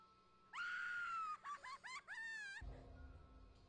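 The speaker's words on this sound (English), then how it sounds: "Well, that was a good scream." A character screams in the video game Persona Q. One long shrill scream is followed by several rising, warbling shrieks, loud and alone, and then a low rumble.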